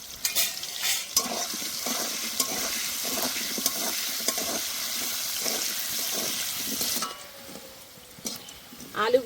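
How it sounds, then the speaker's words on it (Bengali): Potatoes frying in a pan with salt and turmeric for a bottle-gourd and prawn dish, a soft steady sizzle with intermittent stirring clatter, fairly quiet and close, with no voice over it. "এবার আলুগুলো ভালো করে ভেজে নেব"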